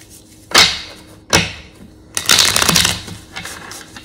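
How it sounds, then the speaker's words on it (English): Tarot cards shuffled hard by hand, three loud riffling bursts, two short snaps followed by a longer flapping cascade, close and alone in a quiet room. "Gonna do a good hard shuffle."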